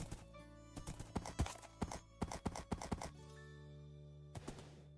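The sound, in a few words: horse hooves clip-clopping in Minecraft video game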